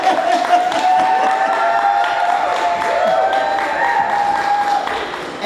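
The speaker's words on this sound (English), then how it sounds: "if you can hear me, clap your hands" An audience claps together at a talk, a steady broad wash of applause lasting several seconds with a faint tonal hum beneath it, fading slightly at the end.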